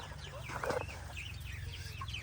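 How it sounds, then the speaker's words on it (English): Farmyard chickens clucking steadily at close to mid distance, with several overlapping short calls over a low background hum and no talking. "And over here is the chickens."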